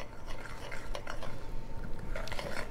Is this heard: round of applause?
no